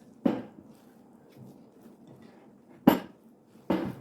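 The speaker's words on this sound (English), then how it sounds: "Give it a mix." A potato and spring onion filling being mixed in a bowl, heard as three sharp utensil knocks against the bowl spaced well apart, with quiet, faint rustling between them.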